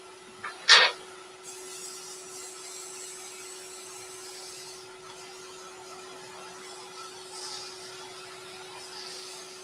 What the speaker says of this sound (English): I'm starting off sanding on 240 and just finishing with 400.